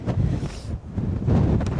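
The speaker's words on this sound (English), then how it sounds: "God, it's so windy." Strong gusting wind buffets the microphone on a winter hike in Wales, a heavy low roar that surges, briefly drops, then returns loud and close.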